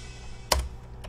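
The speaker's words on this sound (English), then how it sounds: "What you heard there was me pressing the keyboard and it triggered our sounds" A single sharp percussive drum sample triggered from a computer keyboard rings out over a low hum, followed by a fainter second tap about half a second later.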